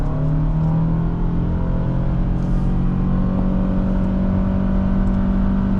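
A 2023 Toyota Sienna LE Hybrid accelerating, heard from inside as a steady, loud engine and road drone with a sustained hum, no voices.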